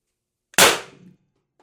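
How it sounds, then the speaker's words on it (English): A Beeman BP50 air pistol fires a 12.7mm nylon precision bearing: one sharp, close crack followed by a brief fading ring, otherwise silence. "this is probably shot number 5. Let's try it. Shot number 5."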